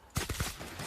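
Gunfire in the video game The Outer Worlds, a short rapid burst of several shots in quick succession that then trails off into a rumbling tail, heard close and fairly loud with no talking.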